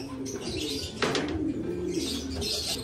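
Racing pigeons feeding in a loft, with steady close cooing and a brief burst of wing flapping over soft background chirps.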